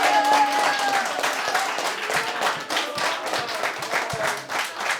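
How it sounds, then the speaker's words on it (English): An audience at a debate claps steadily, a dense patter of hands that fades a little toward the end, with some voices mixed in. "as proven by the claps you hear"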